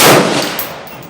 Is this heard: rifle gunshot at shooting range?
yes